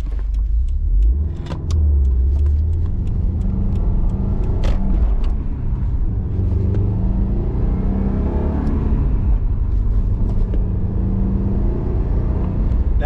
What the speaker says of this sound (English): that's how you drive a stick shift. Clutch in, first gear, let the clutch out, foot on the gas.